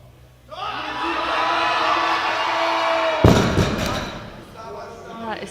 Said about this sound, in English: He's receiving the support of the crowd.